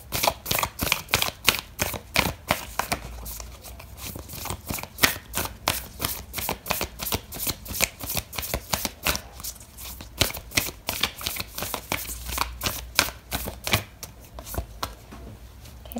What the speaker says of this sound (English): I'm going to pull out an oracle card for you